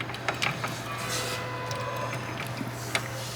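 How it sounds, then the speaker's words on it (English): A Ford F150 rear differential with broken spider gears as the passenger rear wheel is turned by hand, giving faint, irregular clicks and ticks over a low steady hum. "So what I'm going to do, just rotate the passenger rear wheel."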